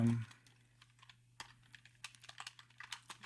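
Quiet clicking keystrokes on a computer keyboard come in an irregular run of light taps after a brief thump, with a low steady hum underneath.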